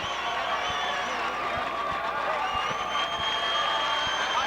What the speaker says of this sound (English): And the Jacobs fans on their feet now, clapping for their conquering heroes